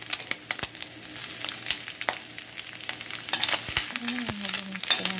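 Garlic sizzles softly in a pan with scattered pops and light scraping of a utensil, a steady close frying texture without speech.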